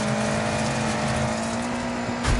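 A Cosworth rally car's engine drones steadily while racing on ice in the video game DIRT 5, a continuous loud tone with a brief surge near the end and no talk.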